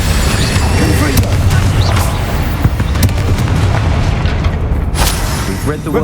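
Confringo spell explosions in the video game Hogwarts Legacy, loud booming blasts and crackling bursts layered densely over game music and effects, continuous and close without a break.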